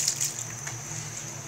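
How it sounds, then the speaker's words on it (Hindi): A pot of water at a boil on the stove before rice goes in, a steady close hiss and gurgling bubble noise with no talk. "पानी हमारा बॉईल हो चुका है।"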